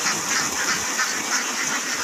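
A flock of farmed ducks quacks steadily nearby, a dense, overlapping chorus of nasal calls with no pauses.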